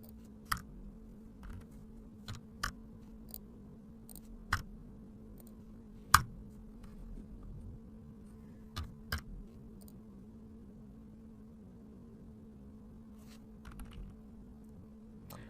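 Sparse, sharp clicks of a computer keyboard and mouse while drafting in AutoCAD, irregularly spaced single taps over a quiet hum, with long pauses between them.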